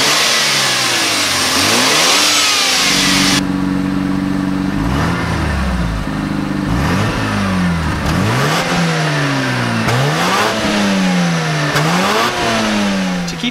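A 1990s Mazda FD RX-7 with a 1.3-liter 13B-REW twin-turbo Wankel rotary engine revs hard and loud, rising and falling in repeated sweeping surges close by.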